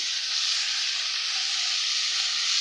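Sliced potatoes fry in hot oil for a Bangladeshi egg-and-potato dish, giving a steady, loud sizzling hiss that stays even and close throughout, with no talk.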